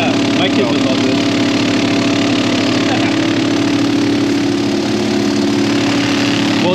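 A deburring machine in a machining shop tumbles metal parts with a continuous, loud, steady churning rumble that holds unchanged throughout.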